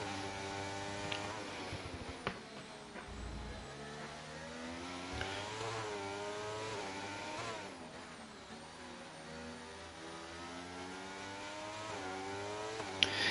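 Race car engines in a video game, at the Hungary circuit, whine and rev steadily, shifting pitch as they accelerate, a continuous drone of several cars at moderate volume.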